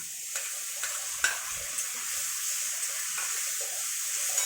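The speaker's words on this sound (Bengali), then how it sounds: "পেঁয়াজটা ভাজা হয়ে গেছে, এর মধ্যে আমি মশলা আদা জিরে লঙ্কা রসুন বাটা পেস্ট আছে, এটা আমি এর মধ্যে দিয়ে দিলাম" Ginger, cumin, chili and garlic paste hits fried onions in a pan for a pointed gourd and prawn curry, giving a steady close sizzle broken by occasional stirring scrapes, with no voices.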